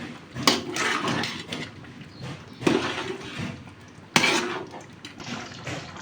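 A spoon works cooked chicken through biryani in a pot, giving three sharp metal scrapes and knocks with softer stirring and shuffling in between, close and fairly loud.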